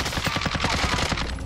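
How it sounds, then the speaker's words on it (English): Rapid automatic gunfire from a Call of Duty Modern Warfare firefight, a loud, dense stream of shots with steady rhythmic bursts filling the whole moment, no voices over it. "I'm taking fire!"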